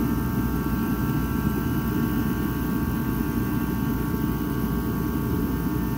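A Craftsman portable heater runs with a steady, loud roar of combustion and fan noise, constant throughout with a faint tonal hum and no change in level.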